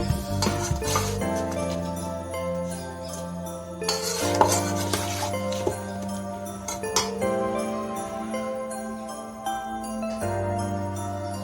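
Mango pickle mixed with a ladle in a metal pot, clinks and scraping stirs with metallic knocks, bursts of clatter at intervals, close and fairly loud, no talk.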